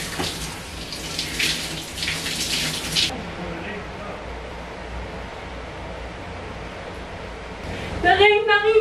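Shower water runs while hair dye is rinsed out, a broad steady hiss that drops in level partway through, with a voice talking over it at the end.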